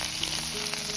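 Curry leaves and chili sizzle in hot oil, a dense, bright frying hiss with crackles that runs continuously for a moment while a radish-leaf shak is being cooked.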